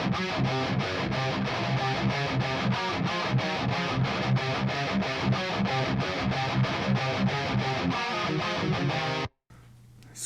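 A distorted metal guitar, played through amp and cabinet simulation plugins, chugs out a dense, rhythmic stream of palm-muted chords for about nine seconds and then stops abruptly, with no talking.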